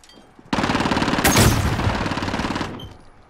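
Rapid automatic gunfire in Call of Duty Modern Warfare, a loud sustained burst of close shots lasting about two seconds before cutting off.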